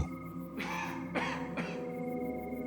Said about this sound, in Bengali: হঠাৎ করেই সেই কাশির শব্দটা তার ভীষণ কাছ থেকে ভেসে এলো।